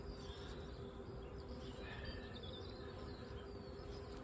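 Honey bees in an opened hive, where a drone-laying colony is being split and sorted, give off a dense, continuous buzzing hum that stays steady and close throughout, with no voices.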